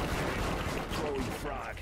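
A deployed turret in a first-person shooter video game keeps up sustained rapid fire, a dense, loud burst of gunfire filling the whole moment with battle noise around it.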